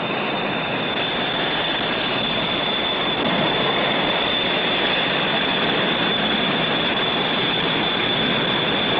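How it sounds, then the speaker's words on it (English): A loud, steady jet aircraft engine roar with a high whine on top, heard from inside the aircraft as it starts up, running continuously without pause. "We'll start up the engine"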